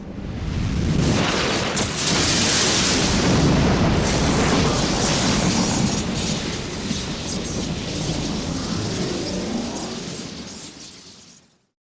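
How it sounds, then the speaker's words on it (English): Ominous thunder rumbling and booming with crackling lightning in a Final Fantasy XIV cutscene, a loud sustained roar that swells early and slowly fades out over several seconds, with no voices. "Lightning crackles, ominous thunder booms"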